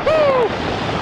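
From inside a stunt plane accelerating down a runway comes a steady, loud rushing roar, with a short whistling tone that sweeps downward near the start.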